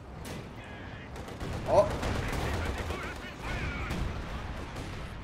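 Artillery fire in the real-time strategy game Company of Heroes 2: a heavy blast lands midway through a continuous rumble of battle noise and gunfire, and a player gives a short startled exclamation.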